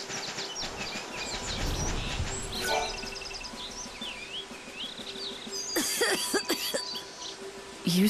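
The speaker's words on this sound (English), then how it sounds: "I've been laid low with this cough." A character in the video game Lightning Returns: Final Fantasy XIII coughs a few times, short rough bursts near the start, set over a quiet game ambience with chirping bird-like calls and tones.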